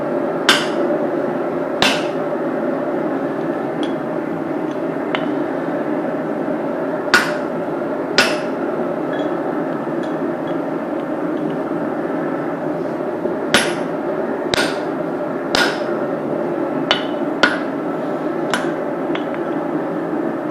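Sharp hammer blows ring out irregularly while forging a small ball peen hammer, bright metallic strikes spaced a second or more apart over a constant loud roar of forge blower noise, no voices.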